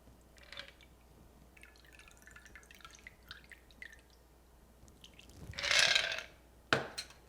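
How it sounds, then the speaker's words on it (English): An Old Pal cocktail poured into a chilled Nick and Nora glass: faint drips and clinks, then a short, fairly loud splashing pour lasting about a second, followed by a sharp tap of glass. "Now pour into a chilled Nick and Nora glass."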